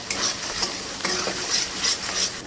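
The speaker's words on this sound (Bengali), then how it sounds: "ভালো করে মশলাটাকে কষিয়ে নেব" Turmeric, sugar, salt and spice paste fry in oil over raised heat for a Bengali pointed-gourd poppy-seed dish, with a steady close sizzle and a spatula scraping the pan in regular strokes about every half second.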